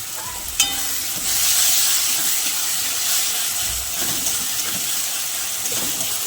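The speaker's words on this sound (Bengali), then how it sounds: "আমরা পেঁয়াজ বাটাটাও ভালো করে ভেজে নেবো" Onion paste frying in oil for a homestyle Bengali pabda fish curry, a steady close sizzle and hiss with a faint stir near the start, no voices.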